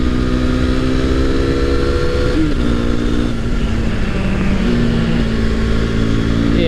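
A motorcycle ridden on scenic New Zealand back roads, engine droning loud and steady as it climbs through the gears, pitch rising and dropping at each shift, with strong wind rush throughout.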